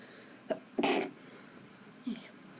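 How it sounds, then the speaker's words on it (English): A few short, sharp bursts of breath, one stronger than the others, like a stifled sneeze, in a quiet room. "And I need to sneeze one."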